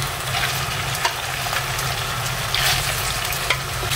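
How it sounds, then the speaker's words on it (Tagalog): Pieces of chicken for chicken Coca-Cola fry in hot oil in a pan until browned, with a steady, close sizzle and occasional soft stirring clinks. "I-prito lang natin siya hanggang sa mag-brown siya"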